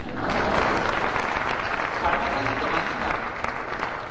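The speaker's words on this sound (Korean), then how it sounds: "박수 한번 쳐주십시오" Applause from a lecture audience swells quickly and holds as a steady, moderately loud patter of many hands for about four seconds, slightly thinning toward the end.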